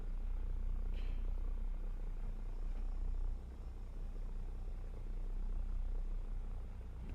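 Propeller aircraft engine idling at low throttle in the War Thunder flight sim, a steady low droning purr, continuous and even with a slight dip partway through.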